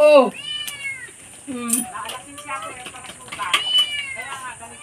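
A kitten gives several high, thin meows, close and fairly loud, mixed with people talking nearby.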